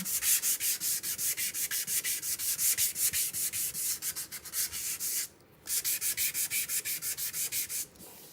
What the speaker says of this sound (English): I'll take that little sanding block, hi Carrie, and tone that down.